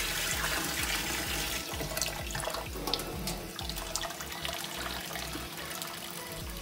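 Tap water runs steadily into a bowl of soaking black chickpeas being rinsed in a kitchen, a continuous close splashing and gurgling with no talk over it.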